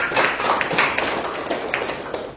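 Church congregation clapping hands in a steady, rhythmic pattern of sharp claps, moderately loud and without talk over it.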